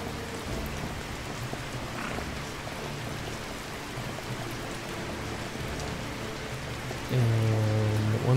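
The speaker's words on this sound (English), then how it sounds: "It is still raining." Rainfall in the desert survival video game Badiya, a steady wash of rain heard alone and continuously, with a low tonal hum swelling in near the end.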